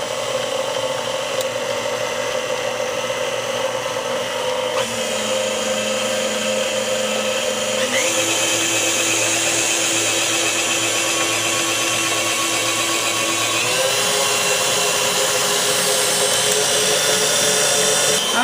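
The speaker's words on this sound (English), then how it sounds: "We're going to give it a nice whip again just to make sure the flour is well incorporated" An electric mixer whips chocolate chip cheesecake poundcake batter, a loud continuous motor whine lasting the whole stretch and stepping up in speed a few times, with no talk.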